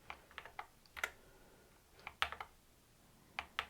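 Typing on an Epomaker RT100 mechanical keyboard: scattered keystroke clicks in short bursts with pauses between, close and fairly quiet, no voices.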